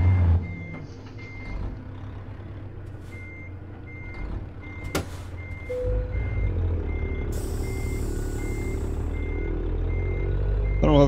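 A truck backing up in American Truck Simulator, with a steady, evenly spaced series of reversing beeps over a low diesel engine rumble and a hiss of air brakes partway through.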